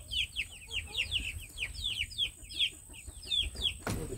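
Chickens and young chicks in a new coop let out a steady run of soft clucks and chirps, close and lively, with a sharp knock near the end.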